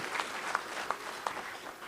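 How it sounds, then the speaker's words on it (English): Scattered applause at a racing awards banquet, with a room of people clapping at middling distance under faint crowd murmur for about two seconds. "So, round of applause to all of our weekly drivers and our touring guys."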